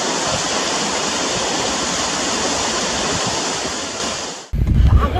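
Towangseong Falls, a tall three-tier waterfall in Seoraksan, Korea, roars as a dense, steady rush of falling water that fills the air, then gives way to rumbling wind buffeting the microphone near the end.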